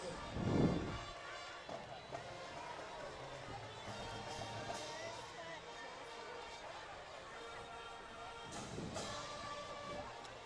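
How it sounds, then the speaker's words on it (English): Crowd noise from the stands at a high school football game between Oceanside and Carlsbad, a steady distant roar and babble with a couple of louder bursts, heard under a public address announcer. "That loud crowd over there is absolutely exploding right now"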